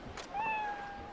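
A single drawn-out meow from a cat in the video game Yakuza Ishin, a dirty, clumsy cat that had fallen off a dock, rising and then sliding down in pitch, clear and close, with faint background noise around it.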